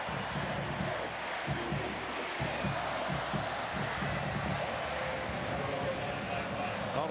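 A steady, dense roar from a college football stadium crowd during Auburn versus Kansas State in 2007 fills the whole span, with a voice talking underneath.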